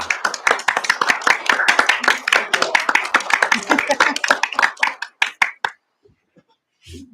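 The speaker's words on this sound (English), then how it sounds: "I think we should just give him a round of applause." A small round of applause at a sparsely attended township board of supervisors meeting: a few seconds of steady nearby clapping that thins into scattered last claps and then stops, with voices mixed in.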